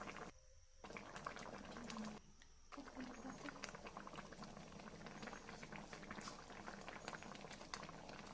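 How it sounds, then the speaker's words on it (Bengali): Egg omelette curry with garam masala simmering in a pot, a soft continuous bubbling and popping with faint clinks now and then, quiet and steady. "দিয়ে গরম মশলা ডিম দিয়ে 3 মিনিট ফুটিয়ে নেব।"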